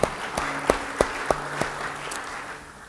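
A church congregation claps in a steady rhythm during a sermon, with crisp regular claps over a soft sustained tone. The clapping is moderately loud and fades toward the end.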